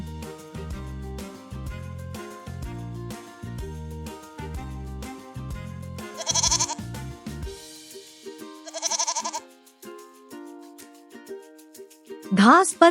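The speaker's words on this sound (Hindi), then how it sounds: "घास पर कितनी बकरियां हैं?" A goat bleats in two short, wavering calls a couple of seconds apart, then another bleat near the end, over light background music that drops away midway.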